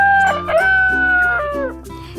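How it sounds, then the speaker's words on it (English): A Gallic rooster crows loudly and close by, a single drawn-out cock-a-doodle-doo with rising and falling harmonic calls, heard alone without talk. "This is a Gallic rooster."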